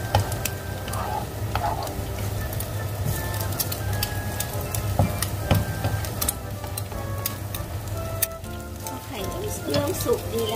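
Glass noodles with bamboo shoots stir-fry in a hot pan, giving a steady, dense sizzle broken by scrapes and clinks of the spatula, close and fairly loud throughout.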